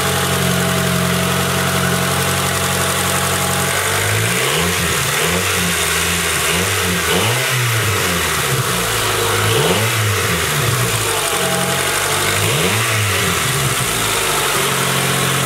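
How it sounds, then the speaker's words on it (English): A 1997 Honda Accord LX engine with its stock air intake idles close by, then revs up and down several times in rising and falling swells, its rumble loud and continuous. "And this is my engine. So that's the stock intake, air intake."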